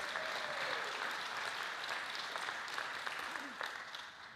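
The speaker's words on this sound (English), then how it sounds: "let's give Suzanne a round of applause, 15 years" Rotary club members applaud together at a catered meeting, a steady, moderately loud round of clapping that lasts throughout with faint voices underneath.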